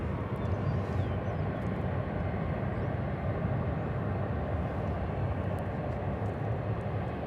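An airliner arriving at DFW Airport after an almost 11-hour flight gives a steady, distant engine rumble, a broad continuous drone with no talk.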